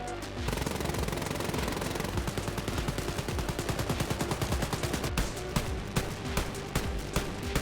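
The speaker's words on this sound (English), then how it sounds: "how flat out shit the guns sound in this game" Rapid automatic gunfire in the video game Wolfenstein: Youngblood, a fast steady rattle of shots that runs continuously, close and loud with no talking.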